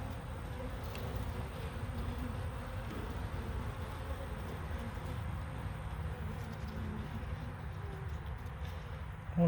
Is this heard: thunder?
no